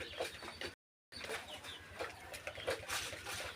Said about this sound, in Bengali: মুরগি বাচ্চা আছে হ্যাঁ এটা হলো কক অর্থাৎ পাকিস্তান সোনালি মুরগি বাচ্চা